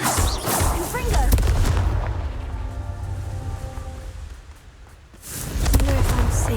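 A Confringo fire spell in Hogwarts Legacy, booming blasts at the start and end with a rumbling burst between them, loud and close.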